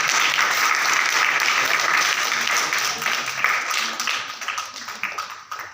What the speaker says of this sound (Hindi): आप सबसे निवेदन है कि ताली बजाकर